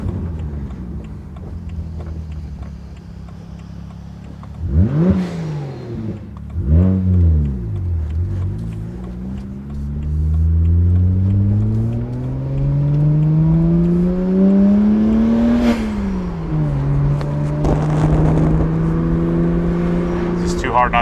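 A modified BMW 1M engine revs hard while driving, its pitch sweeping up and dropping through several gear changes and then settling into a steady climbing drone.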